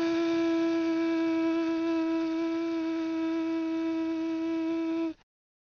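A person imitates a computer fan with a steady, sustained hum, a held voiced tone with a bright buzzy edge that runs unbroken for about five seconds and then cuts off abruptly into silence.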